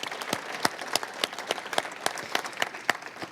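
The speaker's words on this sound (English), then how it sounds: "give her one more thank you and a big round of applause" A small audience claps for an administrator, with individual sharp claps in a loose, fairly regular rhythm, close and moderately loud.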